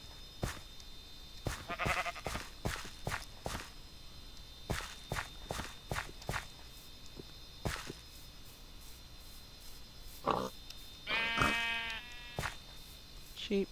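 Sheep bleat in a video game, a couple of short bleats near the end after a series of footsteps, with a person talking.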